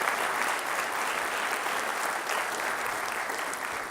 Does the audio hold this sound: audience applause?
yes